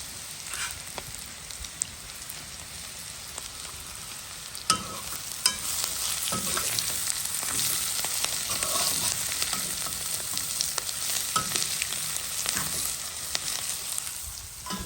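Onions frying in a little oil in a pan for a Réunion rougail, a continuous close sizzle and crackle that grows louder midway, with scattered stirring knocks.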